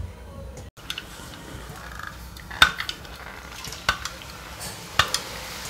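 Garlic-spiced besan shev frying in hot oil in a home kitchen: a steady soft sizzle runs throughout, broken by a few sharp clinks of metal utensils.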